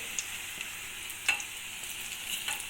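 Besan bhalla, gram flour dumplings, frying in hot oil in a pan, a steady close sizzle with a few soft pops.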